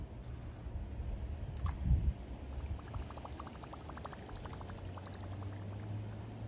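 A topwater bass fishing lure plopping and splashing in water, a soft splash followed by light bubbling, gurgling and faint clicks, quiet and close.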